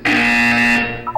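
A loud electronic buzzer blares in a Portal 2 test chamber, one sustained harsh tone about a second long that cuts off abruptly, heard alone.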